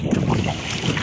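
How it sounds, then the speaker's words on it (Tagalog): Strong wind rushing across the open sea around a small fishing boat in rough, wavy water, a loud continuous roar with heavy buffeting on the microphone. "Mahangin."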